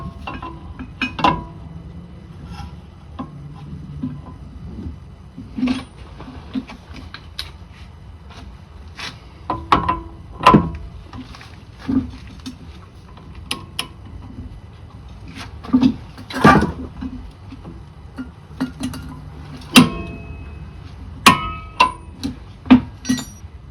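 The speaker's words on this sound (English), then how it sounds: "Now we can torque our axle nut to" Torque wrench tightening the axle nut on a 1988-1992 Toyota Corolla during CV axle replacement, heard as scattered sharp metallic clicks and clinks, some close and loud, spread irregularly over a quiet garage background.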